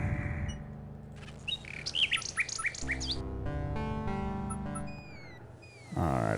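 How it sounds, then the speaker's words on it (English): A bird in the King's Quest 6 adventure game chirps and tweets in quick bright bursts over looping background game music, with a few rising whistle-like calls near the end. "You can give this bird some stuff"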